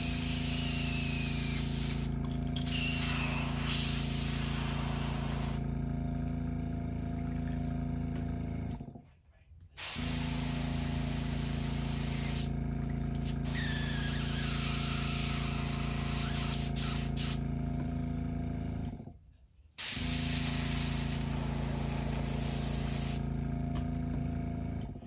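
An airbrush being cleaned out after spraying white paint gives long, steady, loud hissing sprays. The bursts run about nine seconds each, with two brief pauses between them.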